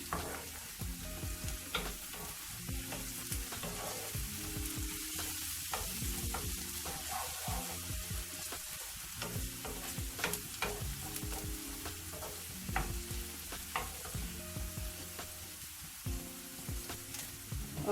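Garlic frying with golden-brown onions in a pan for whole masoor dal, a continuous crackling sizzle broken by repeated scraping strokes of a spoon stirring, close and steady with no voices.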